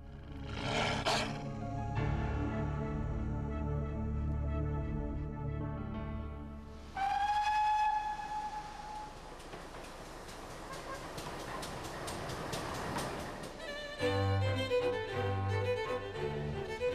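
Heritage steam railway at Buckfastleigh station in Devon on the edge of Dartmoor: a long steam whistle sounds, then a train's rumbling, hissing and clanking approach builds, with another whistle blast near the end.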